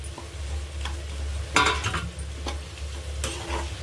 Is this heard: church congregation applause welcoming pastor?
no